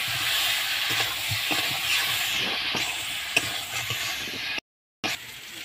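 Spice masala with salt and turmeric sautéed for a catfish (magur) curry, a steady close sizzle with scraping stir strokes and a brief silent gap near the end, no talk.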